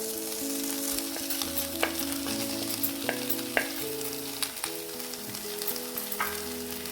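Fried prawns sizzle in a pan of masala as they are stirred, a steady close frying hiss with scattered sharp crackles and occasional utensil knocks.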